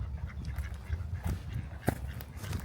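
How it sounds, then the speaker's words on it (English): Ducks quack and honk faintly in a park on the Locko Park estate, scattered short calls over a steady outdoor rumble, one brief call standing out near the end, with no talking. "Finally found some ducks."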